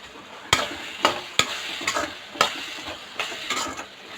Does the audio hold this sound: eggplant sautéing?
yes